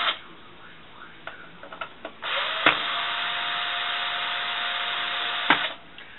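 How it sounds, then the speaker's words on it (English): A powered screwdriver whirs steadily for a few seconds while removing screws from a heatsink, preceded by light clicks and handling taps, close and alone. "Removing the screws from the heatsink."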